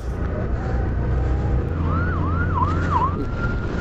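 An ambulance siren wails in rising and falling sweeps over a steady rumble of road traffic, fairly close and loud.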